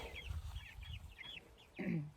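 Meat chickens cluck in a chicken tractor out on pasture, a run of soft, close, high chirping calls followed by one louder, lower squawk near the end.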